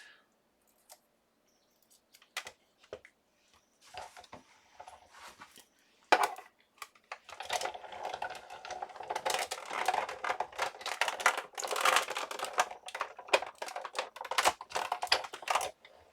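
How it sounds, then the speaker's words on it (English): Scissors cut out a mixed media paper craft tag: scattered sharp snips at first, then a denser run of close, crisp cutting and rustling paper that grows steadier toward the end, with no talking. "So I'm going to cut this out."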